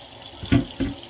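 Cold water runs from a kitchen tap into a sink beside dandelions being cleaned, a steady hiss with two brief louder splashes in the middle.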